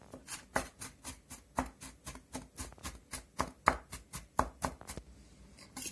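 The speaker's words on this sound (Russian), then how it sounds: "Мелко-мелко его измельчим" Red onion being finely chopped with a knife on a board, a steady run of about twenty crisp, close chops in an even rhythm, with no talking.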